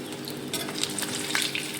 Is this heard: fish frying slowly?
yes